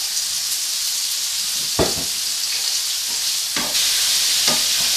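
Steak pieces brown in a hot frying pan with a loud, continuous sizzle, broken by a few sharp scrapes and stirs of the pan.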